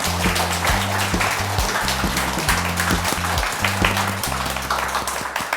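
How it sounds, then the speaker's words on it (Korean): Studio audience at a talk show on happiness applauds to welcome a guest doctor, brisk clapping running continuously over a rhythmic low musical backing. "박수로 모시겠습니다"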